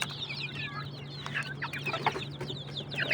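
Native deshi chickens clucking at night, a flock of soft, overlapping clucks and brief chirps close by over a steady low hum, with no talking.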